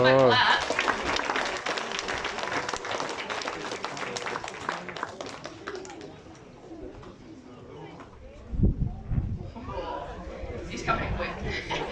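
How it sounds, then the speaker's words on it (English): A crowd at a crocodile show in Australia gives a round of clapping that rises and thins out, mixed with a presenter talking and scattered background chatter and bird calls. "Give him a clap."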